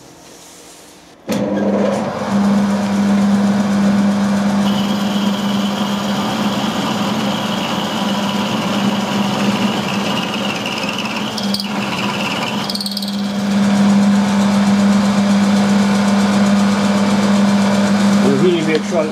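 A milling machine hums steadily as it mills metal held in an ER40 chuck. The cut drones close and loud after a sudden start, with a short dip midway, and a voice speaks over it at times.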